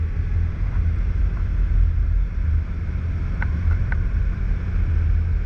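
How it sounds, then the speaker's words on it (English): Motorcycle ridden on city roads during a Class 6 road test in Burnaby, a steady low engine rumble mixed with wind buffeting, continuous and fairly loud with no talk. "bring up your bike to 55 kilometers an hour"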